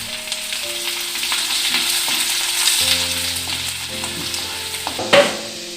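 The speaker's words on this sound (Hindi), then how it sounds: "मैं उसको भी डाल के हल्का सा फ्राई करने वाली हूँ" Spices sizzle and crackle steadily in hot oil while a spoon stirs, with a brief louder clatter near the end, while making lemon and dates pickle.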